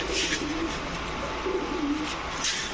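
Old-breed Bagha pigeons, a male and female, coo in a loft in low repeated murmuring phrases, close and steady over a dense background hum.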